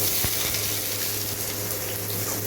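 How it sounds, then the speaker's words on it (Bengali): Chopped onion drops into hot oil in a home kitchen pan and fries with a steady, dense sizzle. A low hum runs underneath, and there is one brief knock near the start. "আমি এখন এই তেলের মধ্যে পেঁয়াজ কুচিটা ছেড়ে দেব"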